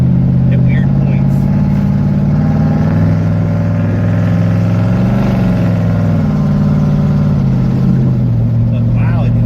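A 1993 Chevy K1500 pickup drives along steadily, its engine droning loud and close with a few rises and dips in pitch as it shifts gears, while a voice speaks intermittently over it.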